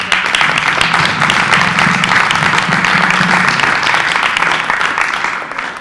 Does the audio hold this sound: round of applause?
yes